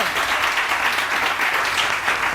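Steady, dense applause from a TV studio audience, continuous and fairly loud throughout with no voices on top.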